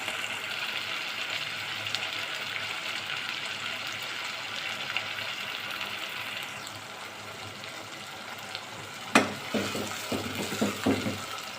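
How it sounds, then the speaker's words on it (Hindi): Ginger and garlic sauté in a pan for a spiced liver dish, a soft steady sizzle under faint stirring, then a few sharp scrapes and clinks of a spoon against the pan near the end. "अब इसी के साथ मैं अदरक लहसुन को सौते करूँगी।"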